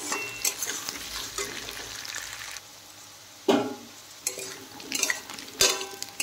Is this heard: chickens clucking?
no